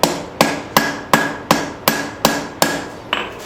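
Hammer blows thin and shape hot metal against the side of an anvil, eight sharp, ringing strikes in a steady rhythm about every half second, loud and close with no talking.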